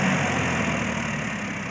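A Farmtrac T20 tractor engine idles steadily with a low, continuous rumble and vibration, close by and fairly loud throughout, with no voices.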